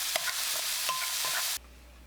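Onion and paprika sizzle steadily in a hot pan, with a few soft scraping stirs over the frying hiss before it cuts off abruptly into silence.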